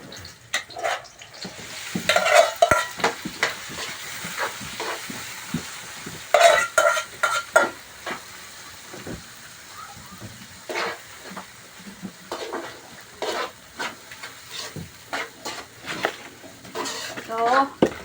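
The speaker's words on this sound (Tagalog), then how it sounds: "So, mikos-mikos natin guys para mahalo." Ginisang monggo, sautéed mung beans with ginger, is stirred in a pot: repeated scraping and clattering strokes of a spoon against the pot over a soft sizzle, coming in irregular bursts.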